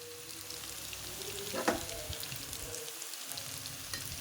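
Crushed garlic fries in oil for stir-fried water spinach, giving a soft, steady crackling sizzle with one brief louder spatter near the middle.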